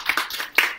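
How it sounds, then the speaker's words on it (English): An audience at an arts benefit night for Ukraine claps in a short burst of scattered hand claps. The sound is close and moderately loud. "Give him a round of applause."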